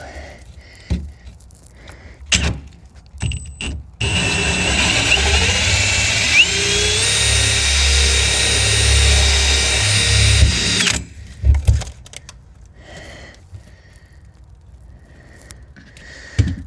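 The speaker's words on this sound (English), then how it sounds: "one big hole drilled in the side of my tank" A power drill bores a large hole through the side of a tank for drainage plumbing, running loud and steady for about seven seconds, bracketed by brief handling clicks and knocks before and after.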